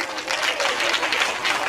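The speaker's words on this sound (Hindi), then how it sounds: "ठोको ताली।" Audience applause at a Hindi comedy poetry recital: a sustained, loud wash of many hands clapping with crowd murmur mixed in, steady throughout the short burst.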